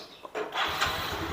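A 2008 Yamaha motorcycle engine cranks and catches, a short rising whir settling into a steady running idle, close by with some background noise and no talk.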